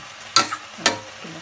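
Chicken stirred in a cooking pot, two short scraping strokes of a utensil over a soft sizzle, close and brief.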